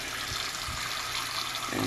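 Water running steadily from a tap during a leak detector test, a soft continuous splashing hiss heard alone for a couple of seconds.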